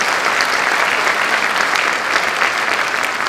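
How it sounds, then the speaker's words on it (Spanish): Dense, steady applause from a conference audience fills an auditorium for a speaker at a thanatology conference, loud and sustained throughout with no talk. "por favor un aplauso para Juan Pablo Bravo"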